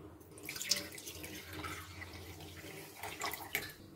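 Tender coconut water poured out of a fresh coconut, a steady close trickle and splash with a few brighter drips, continuous for several seconds without speech.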